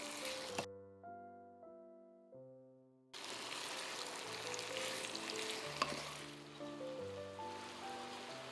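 Meat frying in a pan on a stovetop, a steady broadband sizzle that rises abruptly partway through, with music playing over it; no talking.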